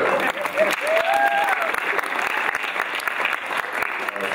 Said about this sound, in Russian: Давайте просто похлопаем Игорю